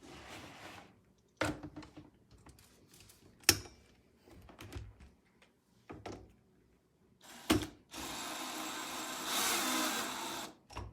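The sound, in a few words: power drill drilling into chick brooder frame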